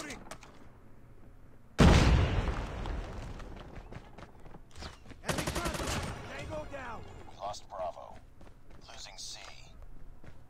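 FR.556 rifle fired from the hip in Call of Duty Mobile: a loud gunfire burst opens, followed by further rapid shots, footsteps and in-game voices and effects trailing off.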